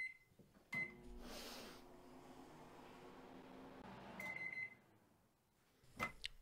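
A microwave hums steadily for several seconds, with a few sharp beeps and clicks near the start and end; faint and enclosed.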